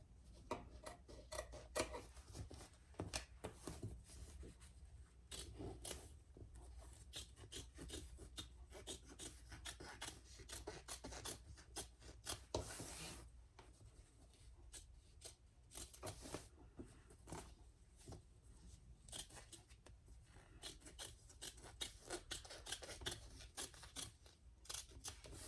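Scissors cutting fabric while sewing a bag pattern, heard as continuous close rasping and rubbing snips, quiet and steady for a long stretch, with no voices.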